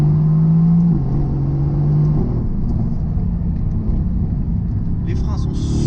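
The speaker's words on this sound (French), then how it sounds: "Là, je suis à 4000 tours minute et je sais qu'au moment où je vais appuyer sur l'accélérateur" A Mercedes-AMG GT S engine holds a steady drone at 4000 rpm, then drops into a deeper, rougher rumble as the car pulls harder, with a voice talking over it.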